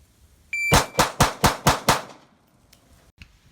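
A 1911 handgun fires six rapid, evenly spaced pistol shots, loud and close, after a brief electronic beep from a shot timer, followed by quiet range ambience.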